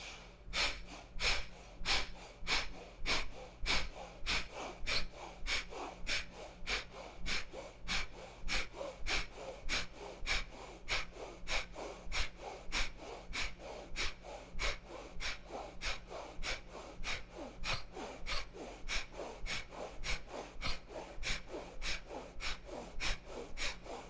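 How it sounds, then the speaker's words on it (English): Breath of fire in a Kundalini yoga session: quick forceful nasal breaths pumped steadily at about two per second, close and even for the whole stretch, with no talking. "we will do the breath of fire. Okay, so inhale deep, exhale, and then start"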